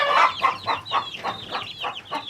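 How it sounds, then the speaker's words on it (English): A mixed hodgepodge flock of backyard chickens clucks close by in a quick, uneven series of about nine squawky calls, with no talking over them. "that's a good group of hodgepodge chickens"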